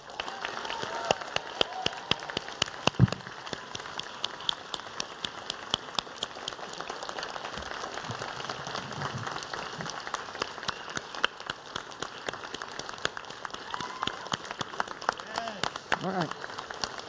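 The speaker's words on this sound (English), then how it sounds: "let's give these students a well-deserved round of applause." Audience applause for students at an academic excellence awards ceremony, a long steady round of clapping at moderate distance with scattered sharper claps and some background voices mixed in.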